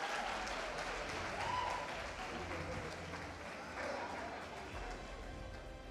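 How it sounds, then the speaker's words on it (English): Audience at a student leadership excellence awards ceremony gives a sustained round of applause, a dense even wash of clapping that fills the room from start to finish with some voices mixed in. "Let us all congratulate with a round of applause"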